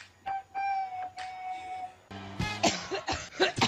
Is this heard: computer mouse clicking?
no